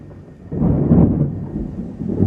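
Rumbling thunder from a lightning storm, a low rolling boom that swells and lingers for a couple of seconds at fairly close range, with no talk over it.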